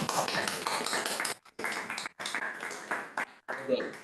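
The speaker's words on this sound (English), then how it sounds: "we all should be just giving you a big hand of applause" Attendees at a regional opioid abatement council meeting clap together in a burst of applause, broken by brief dropouts, with voices mixed in.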